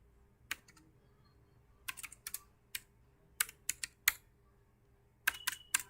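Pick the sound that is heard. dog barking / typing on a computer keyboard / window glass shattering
typing on a computer keyboard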